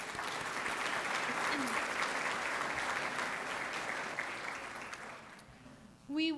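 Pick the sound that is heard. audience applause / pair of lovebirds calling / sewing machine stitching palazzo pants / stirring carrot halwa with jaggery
audience applause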